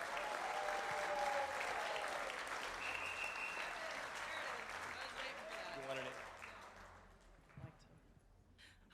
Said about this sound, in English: Now, please join me in a round of applause